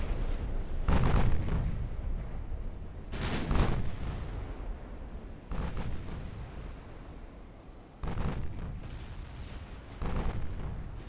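Repeated booming salvos of naval artillery from warships in Ultimate Admiral Dreadnoughts, Ottoman campaign battle: five or so heavy, loud gun blasts at irregular intervals over a constant rumbling sea-battle backdrop, no talking.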